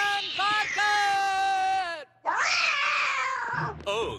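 Cartoon cat meowing and yowling in long, wavering, high-pitched cries, loud and close, with a short pause near the middle and a brief thump near the end.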